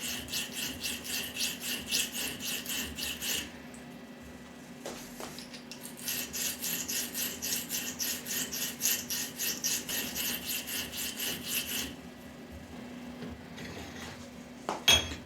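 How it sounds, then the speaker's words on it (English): A hand file rasps back and forth along the radius of a metal part, with steady rhythmic strokes in two long runs and a short pause between them, close by and with no talking. "I do it just like I would file a radius. I'm following the radius like this"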